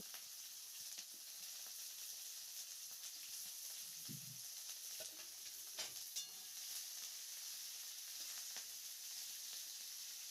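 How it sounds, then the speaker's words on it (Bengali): Beans and spring onion frying in oil over low heat in a home kitchen, giving a steady soft sizzle and hiss throughout with a few brief stirring clatters, no talk. "বিনস ও স্প্রিং অনিয়ন দিয়ে সবজিগুলো কিন্তু আমাদের তেলের সঙ্গে একটু ফ্রাই করে নিতে হবে।"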